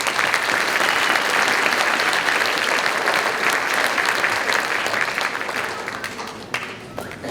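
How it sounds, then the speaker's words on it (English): A concert audience applauds a high school band at a winter band concert, loud and dense clapping from many hands that holds steady and then gradually thins and fades toward the end. "So let's give them one more round of applause"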